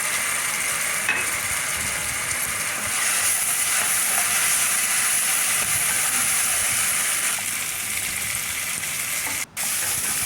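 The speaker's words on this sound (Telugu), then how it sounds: "మూంగ్ దాల్ వేగేంత వరకు వేగించి తర్వాత అల్లం వెల్లుల్లి పేస్ట్ వేయాలి" Moong dal frying in a pan for khichdi produces a steady, loud hiss and sizzle, continuous and close, with no voices and one very brief dropout near the end.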